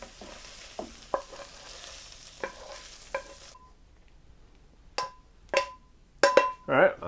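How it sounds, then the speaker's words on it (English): Meat for a creamy sausage rice casserole is tossed and mixed in a bowl, giving a series of sharp clinks and wet thuds, sparse at first, then louder and busier toward the end. "just toss all the meat into a bowl"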